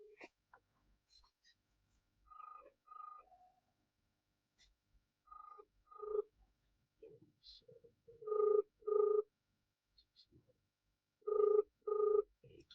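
An unanswered phone call ringing out: a ringback tone comes in repeated double pulses, growing louder over several cycles, with quiet gaps and faint background noise between rings.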